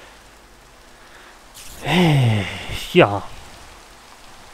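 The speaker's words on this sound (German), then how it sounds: "Und jetzt regnet es." Steady rain hisses through a Minecraft world, a soft, even wash that continues throughout while someone briefly speaks and sighs over it.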